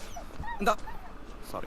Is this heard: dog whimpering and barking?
yes